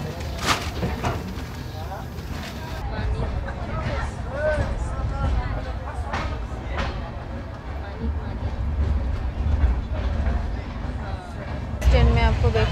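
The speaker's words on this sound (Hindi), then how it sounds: "फाइनली गुवाहाटी स्टेशन से हमारी ट्रेन को डिपार्चर मिल गई है" The Vivek Express train departs Guwahati station from platform 1, with a continuous low rumble and rattle of the moving carriages under onboard chatter and voices, and a louder jolt near the end.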